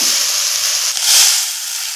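Chowmein stir-frying on a hot tawa makes a continuous loud hiss and sizzle, rising slightly midway and carrying on steadily throughout.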